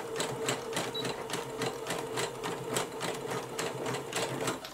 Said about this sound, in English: then you join both ends of the elastic together using zigzag stitches